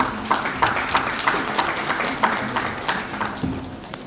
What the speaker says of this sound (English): Please show that energy via clapping.